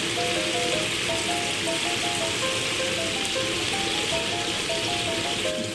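Brown sugar syrup sizzles and bubbles steadily around glutinous rice cakes in a pan as it reduces, a dense continuous frying hiss with no pauses and no talking.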